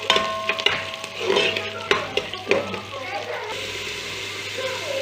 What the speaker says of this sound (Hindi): अब हम इसे लाइट ब्राउन कर लेंगे प्याज को।